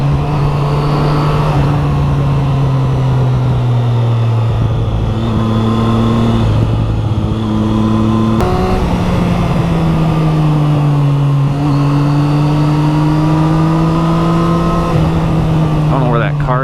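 A Triumph Street Triple 675R motorcycle engine droning and revving through gear changes on a lakeside road, pitch rising and falling steadily, loud and close with wind noise throughout.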